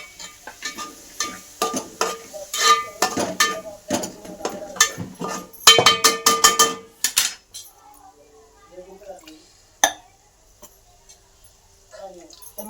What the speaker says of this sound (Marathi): मसाले तळून घेते सगळे